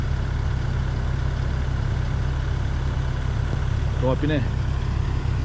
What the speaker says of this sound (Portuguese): Enquanto ela tá dando uma esquentada no motor aí, vou mostrar lá pra vocês.